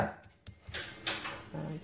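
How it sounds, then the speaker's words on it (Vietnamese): Knife mincing peeled shrimp and pork together on a board, with a few irregular, close chopping knocks separated by brief pauses. "lột tôm rồi mình băm chung với thịt"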